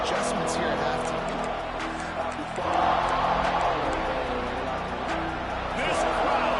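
A stadium crowd at a Gators football game roars in a steady, dense wash of noise throughout, with an announcer talking over it.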